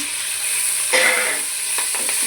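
Green chillies sizzling in hot oil in a pan while brinjal curry is cooked, a steady bright hiss with a few faint stirring scrapes and clicks.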